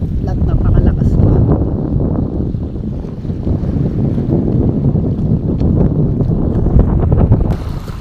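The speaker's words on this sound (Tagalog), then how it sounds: "Wala naman sigurong bagyo, natural na amihan lang. At napakalakas pa." Strong northeast monsoon wind buffets a harbour where a boat sank, roaring steadily with heavy low rumble and microphone buffeting, mixed with rough surf and waves throughout.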